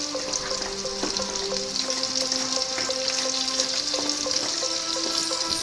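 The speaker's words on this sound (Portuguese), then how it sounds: "O risoto sempre mexendo para ele não grudar no fundo." Risotto stirred in a hot pan, with a constant sizzling hiss and light scraping of the spoon through the rice.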